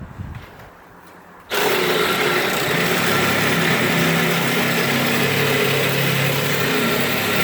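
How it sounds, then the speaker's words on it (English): A reciprocating saw bites into metal while cutting a Jeep Liberty KJ part clamped in a vise. It begins after a quiet second and a half, then runs as a loud, steady buzzing roar for the rest of the clip. "my handy dandy sawzall"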